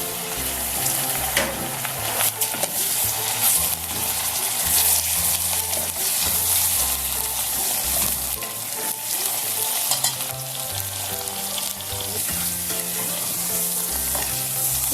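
About 400 grams of chicken fries in a pan over ginger-garlic paste while being stirred, a steady loud sizzle and crackle that runs continuously at close range without talk.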